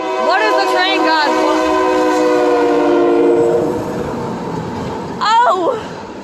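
A train passes close by while its horn sounds in long, loud blasts, then fades, followed by a short second horn call over steady rumbling rail noise.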